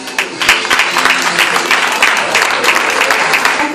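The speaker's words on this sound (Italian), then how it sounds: "doppio applauso" Audience applause for a poetry reading, dense steady clapping from a crowd throughout with a few louder claps standing out.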